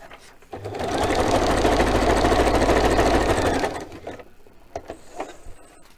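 A sewing machine stitches a floral tuck in one continuous whirring, rapid mechanical run of about three seconds, close and fairly loud, followed by quieter handling clicks.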